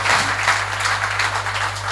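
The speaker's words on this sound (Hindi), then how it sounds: "ताली बजा दीजिए" An audience at a Jain community poetry event applauds a poem, brief continuous clapping close and fairly loud with an electrical hum beneath.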